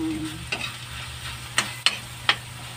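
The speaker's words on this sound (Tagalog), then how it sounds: "Okay, mamula-mula ng ating giniling." Ground meat fries and browns in a pan with a steady sizzle, while a utensil stirring it makes four distinct scraping clinks, close by and with no talking.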